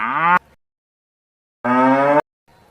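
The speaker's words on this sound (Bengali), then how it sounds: "গয় গরু বাছুর দাঁড়িয়ে আছে" A cow moos twice, loud and close: a short moo cut off at the start, then after a silent gap a longer full moo, with nothing else heard around them.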